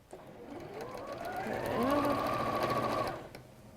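A sewing machine stitches fabric seams in a steady, continuous run lasting a few seconds, whirring at moderate volume and stopping cleanly near the end, with voices faintly present in the background.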